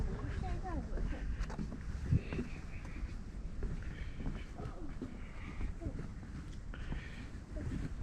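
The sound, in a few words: wind outdoors at Blandford Nature Center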